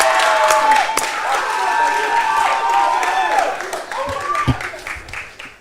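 An audience at a live Ghanaian beauty pageant claps and cheers loudly for a contestant, with the applause thinning toward the end and talk mixed in.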